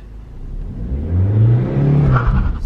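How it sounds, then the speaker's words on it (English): Manual-transmission car engine revving high as a learner driver presses too much gas, a loud close roar that climbs and holds at a raised whine. "why do I hear it go high like the rev?"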